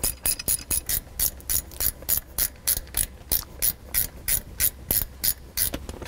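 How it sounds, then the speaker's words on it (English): A half-inch ratchet clicks in a steady, rapid back-and-forth rhythm while snugging down bolts on a Mustang short-throw shifter, loud and close with no talk. "you can use your half inch wrench or ratchet to go ahead and snug those down into place."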